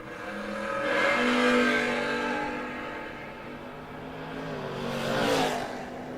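Drag race cars launching down the strip, including a Camaro, engines swelling and fading as they pass at a distance, with a second surge near the end.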